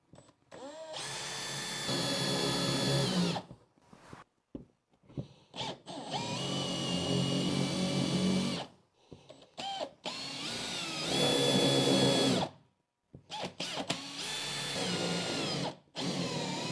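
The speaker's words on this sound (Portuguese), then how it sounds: "Eu já removi boa parte do material utilizando a broca." A drill bit bores out wood in several loud, whining bursts separated by short silent pauses, close up.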